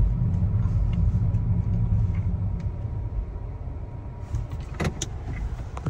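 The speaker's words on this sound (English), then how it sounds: "it's very easy to pull into a parking space like we will be demonstrating here" A car pulling into a parking space, heard as a steady close engine and tyre rumble that eases slightly toward the end, with a few faint clicks and rattles and no talk.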